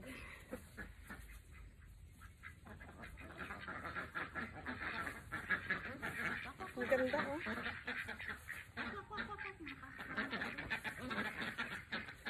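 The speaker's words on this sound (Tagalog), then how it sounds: "Iingay naman ang mga pato mo" Farm ducks quacking noisily and repeatedly around a string bean harvest, moderately close, with a person talking over and between the calls.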